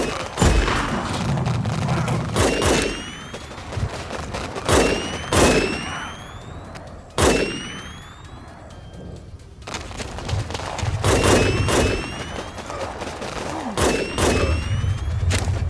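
Sniper rifles fire in the war game WarPips as sharp, loud, separate cracks spaced a second or two apart, each trailing off with a ringing tail, over a background rumble of battle.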